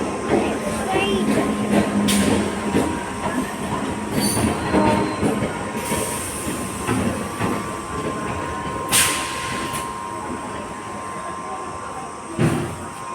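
A train pulls into a railway platform with a steady rumble, clattering wheels and a few sharp squeals, while people talk nearby.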